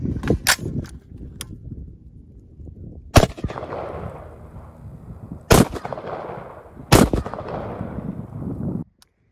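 Gunshots fired at an outdoor shooting range during close-quarters practice: a few quick early cracks, then three sharp, loud, well-spaced single shots, each trailing off into echo.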